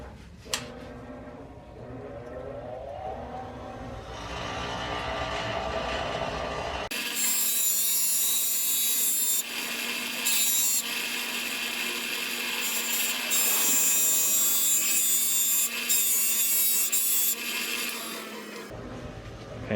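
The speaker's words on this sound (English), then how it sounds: "I'm just gonna grind a little bit and just kind of fit it" An angle grinder bites into a metal solar mounting rail, a loud, steady high-pitched grinding whine that holds for roughly twelve seconds and then cuts off, following a quieter stretch of softer handling sounds.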